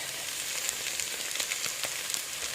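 Garlic sizzles in a pan for French onion soup, a steady bright hiss of frying with small crackling pops throughout, fairly close and without talk.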